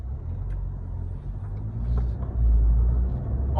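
A remapped Toyota Camry 2.5 D4S engine pulls under acceleration while driving, heard as a steady low cabin drone that swells louder toward the end.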